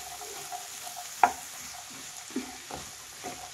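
A spoon scrapes and stirs chopped vegetables, including kohlrabi, through a pan of wedding-style palya, with occasional sharper clinks over a quiet, steady sizzle, close and unhurried.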